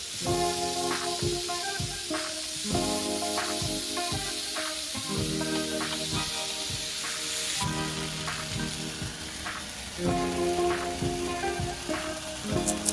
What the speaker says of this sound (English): Place your tomatoes on the hot surface and get some char action going.